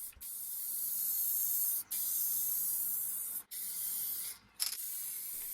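Satin clear coat is sprayed onto an old wooden buffet under restoration, a loud, close, continuous hiss broken by three brief pauses as the spray gun trigger is released.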